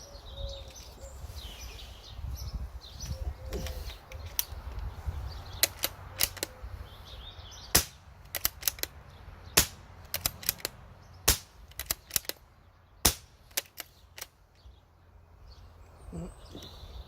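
Shots from a CZ452 .22 LR rifle loaded with Remington subsonic rounds, a string of sharp, fairly quiet cracks at uneven intervals over faint outdoor ambience with birds.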